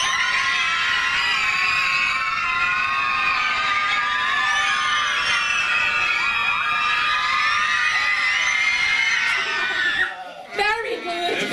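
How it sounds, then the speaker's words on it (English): A crowd of children in a school setting screams continuously and loudly for about ten seconds, then the noise drops out briefly before voices rise again. "sometimes we might need the scream to keep going"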